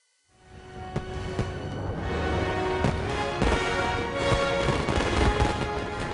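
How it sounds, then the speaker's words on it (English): Fireworks opening the Shanghai World Expo, a dense continuous roar of bursts and crackles with sharp booms standing out at intervals, loud and sustained throughout. "A fireworks extravaganza to open the most expensive World Expo ever"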